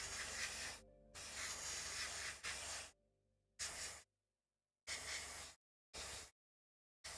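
An airbrush spraying paint onto Warhammer 40k miniatures gives bursts of sharp close hiss, a few long sprays followed by shorter puffs separated by silence.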